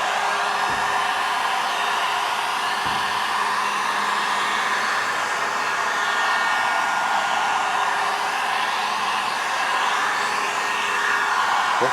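A heat gun blows steadily and close while heating vinyl wrap on a car mirror cap, a continuous airy roar with two faint clicks and no voices.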